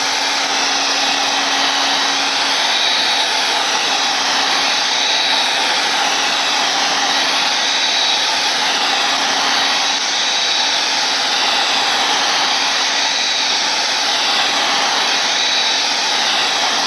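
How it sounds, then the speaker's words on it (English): A hair dryer blows steadily on a piece of spray bottle paint art, a loud, continuous high whooshing roar with faint wavering as it moves, and no talking. "we're going to go ahead before we do this and blow dry this thing again to kind of get that center to dry"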